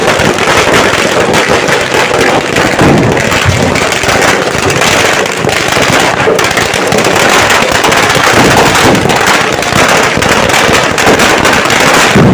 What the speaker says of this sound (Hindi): लगातार बंदूकों के हवाई फायर और आतिशबाजी से गुंजायमान होते शौर्य के वातावरण के बीच